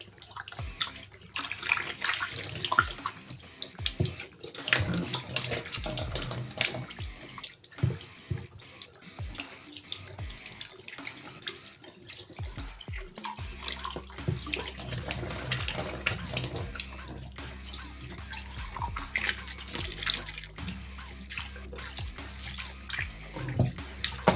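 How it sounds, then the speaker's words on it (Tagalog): Tap water runs and splashes irregularly while a whole chicken is washed in a sink, with gurgles, drips and handling noises and a low hum in the later part. "hugasan ko muna po yung ating isang buong manok"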